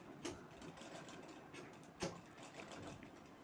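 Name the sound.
sewing machine stitching a shagun potli bag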